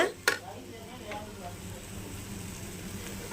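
Vegetables for chicken fried rice stir-frying in a pan with salt, a steady soft sizzle throughout after a couple of brief scraping knocks at the start.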